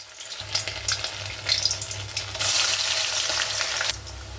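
Chicken balls dropped into hot oil over a low gas flame, sizzling steadily with a loud, bright hiss that swells and intensifies midway, with no talking.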